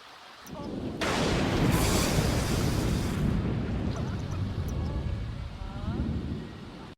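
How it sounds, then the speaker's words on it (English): A lightning strike in The Sims hits a character: a sudden loud crackling burst that rolls on as a sustained rumbling roar for several seconds before tapering off. "our new hen, Sophie, she got hit with lightning"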